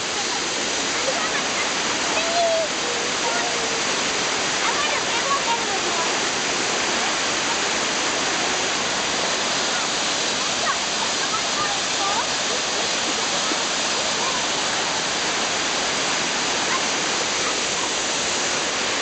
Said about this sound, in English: I don't know how well you'll be able to hear me over the waterfall, but it's gorgeous up here.